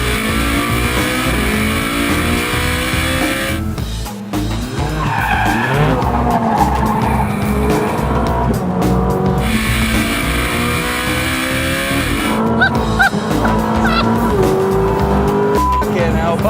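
A Ferrari 458 Speciale screams through hard revs while its tires squeal and skid, a loud continuous roar with rising engine notes and a brief lift midway, a voice faintly present.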